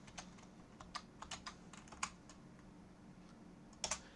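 Quiet, irregular keystrokes tap on a computer keyboard, with short bursts of a few clicks, scattered single presses and a slightly louder pair near the end.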